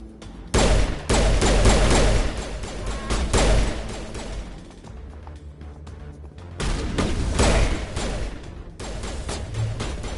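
Heavy bursts of gunfire from Wrex's gun in Mass Effect, loud and close, coming in dense clusters with short lulls between volleys and a renewed barrage toward the end.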